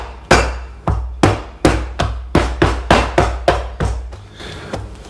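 Hammer breaking chaga fungus wrapped in a towel, about eleven sharp, evenly spaced blows at roughly two per second, loud and close, each with a short decaying thump and no talking.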